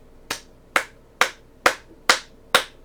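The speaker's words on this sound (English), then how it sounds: "That's me clapping." Six sharp, close hand claps come at an even, unhurried pace, about half a second apart, each crisp and distinct against a quiet background.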